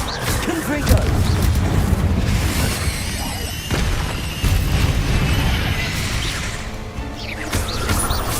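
Confringo explosion spell cast in Hogwarts Legacy, a dense run of booming, crashing blasts that carries on throughout, with a voice speaking over the din.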